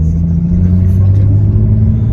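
BMW F80 M3 converted to a single turbo accelerating hard, a loud, close in-cabin drone with a steady low engine note, while people are heard in the car.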